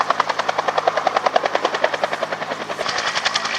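A Huey helicopter flying at the Shuttleworth Fly Navy Airshow, its steady rapid rotor blade thumping loud and continuous throughout, with no talk.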